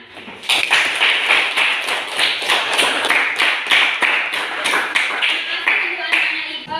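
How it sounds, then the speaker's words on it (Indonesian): A classroom of people clapping together, rapid and steady applause that continues for several seconds, loud and close. "kalau senang coba tepuk tangan"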